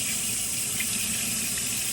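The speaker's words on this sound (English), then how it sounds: "Warm water." Warm water runs steadily from a sink tap, a continuous close hiss and splash with no voices over it.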